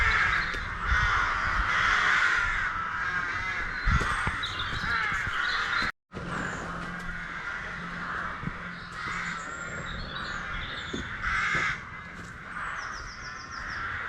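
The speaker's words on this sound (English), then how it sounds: "These crows are making a lovely foreboding orchestra for me to walk through these woods too." Crows cawing in woods near Kilfane Church, repeated harsh caws from several birds at middle distance over a constant rustling, windy background, with no talking.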